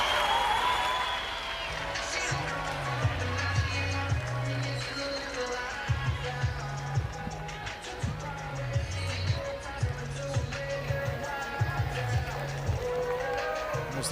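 Oklahoma State fans cheer in a college softball stadium during a game against Florida, a steady crowd roar and applause with scattered shouts throughout, heard under a voice talking.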